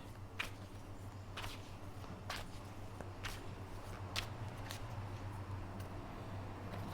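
Playing cards dealt one at a time onto a surface, each making a short, soft slap or flick at an uneven pace of about one every second, over a steady low background hum.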